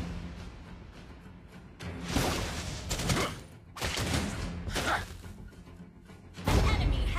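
Gunfire from the gunslinger hero Clint in the mobile game Mobile Legends: Bang Bang, loud bursts of shots and whooshing impacts over a dense battle mix.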